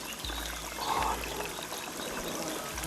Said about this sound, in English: We proceed to the hot spring on the western valley wall, through which water at over 60 degrees drains into the lake.